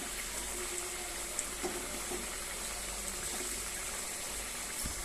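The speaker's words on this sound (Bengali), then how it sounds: "দেখুন তরকারিটা ঝোলটা ফুটে গেছে" Fish and potato curry gravy bubbles in a pot, a soft steady burbling simmer with occasional small pops, fairly faint and close, without any voices.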